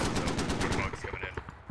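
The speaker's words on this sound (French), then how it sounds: "On se fait sniper là." Rapid gunfire crackles in Arma, a burst of quick shots that thins into scattered reports, moderately loud.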